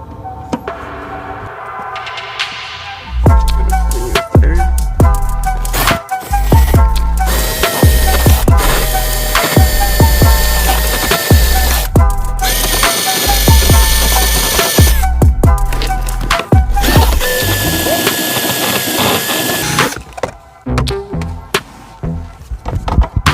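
A power tool, likely a grinder or wire wheel, strips paint down to bare metal at a ground point on a 2005 lowered Chevy Silverado, running loud and close in repeated bursts with short pauses between passes.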